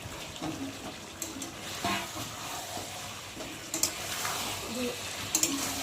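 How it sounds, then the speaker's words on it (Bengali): Fried potatoes being stir-fried with country chicken in a red curry: a steady scraping and stirring with a low sizzle, and a few sharper clinks of the spoon against the pan near the end. "ভালো করে একটু আলুগুলো কষিয়ে নেবো মাংসের সাথে"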